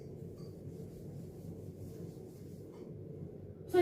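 Eraser or cloth rubbing out a point on a classroom board, a soft continuous scrubbing close by, ending in a sudden louder knock.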